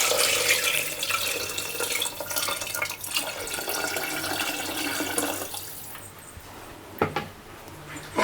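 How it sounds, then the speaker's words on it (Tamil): Water streams steadily into a pot while cooking kaal kulambu, a continuous rushing pour that thins out near the end with a brief splash. "நான் வந்து இப்போ இதில் 3 டம்ளர் போல் தண்ணி சேர்த்துக்கிறேன்."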